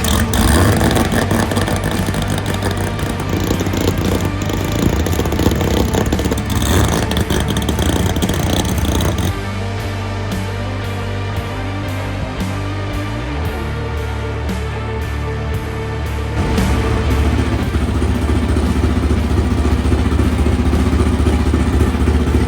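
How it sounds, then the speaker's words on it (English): A Bonneville race car engine, tuned after belching diesel-like smoke, runs loud and close, steady through the opening seconds, briefly easing back mid-clip, then rising again with revs. "now the car is starting to sound like it's running properly"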